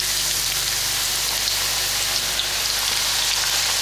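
Onions dropped into a cup of very hot oil on maximum flame for shrimp biryani, a loud dense continuous sizzle like heavy rain, unbroken and close, with no voices.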